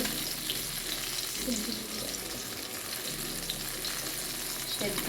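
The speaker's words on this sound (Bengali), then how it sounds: "এবার এই দিকটা একটু লাল করে ভেজে নেবো" Eggplant slices frying in a pan over a high gas flame, a soft, even sizzle and hiss that continues without a break and stays fairly quiet and close.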